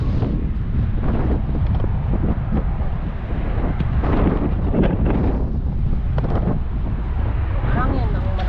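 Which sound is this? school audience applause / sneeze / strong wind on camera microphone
strong wind on camera microphone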